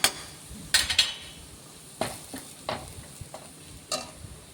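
Scattered clinks and scrapes of a utensil working through salted spices frying in a pan, with soft sizzling beneath and a few sharper metallic taps.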